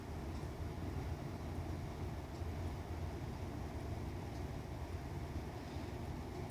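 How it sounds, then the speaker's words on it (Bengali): A mixer grinder blends boiled shrimp into a paste, giving a steady, unbroken motor whir with a dense rumble that holds at an even level from start to finish, with no voices. "এবার চিংড়ি মাছটাকে মিক্সির বাটির মধ্যে দিয়ে পেস্ট করে নিচ্ছি।"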